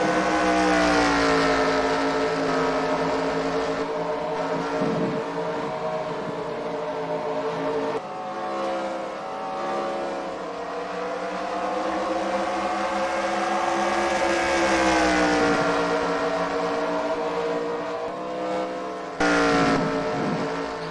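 Stock car engines at Richmond in the eNASCAR racing game drone loud and close, harmonic whines rising and falling as the cars accelerate and lift, with a brief cut near the end and no talk over them.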